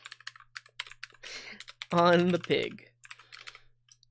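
Rapid, irregular clicking of keys on a misbehaving computer keyboard, close to the microphone, with a short spoken phrase briefly cutting through the middle of the typing.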